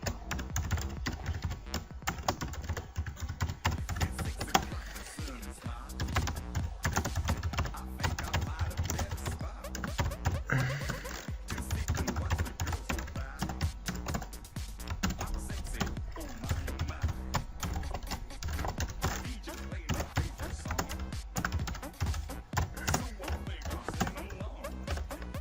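Rapid, steady keyboard typing runs throughout as C++ hello world code is entered on a computer keyboard, dense clattering keystrokes close to the mic with no pauses of note.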